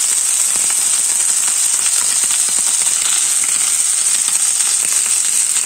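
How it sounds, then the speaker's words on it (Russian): Steady, dense sizzling of chicken breast frying in a hot pan, a constant crackle with no talking. "И обжариваем с другой стороны"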